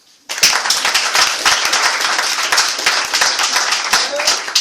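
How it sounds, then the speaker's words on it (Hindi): Audience applause in a business training seminar hall, dense sustained clapping from many hands starting abruptly and continuing loud and steady throughout. "अब ताली बजाएगी"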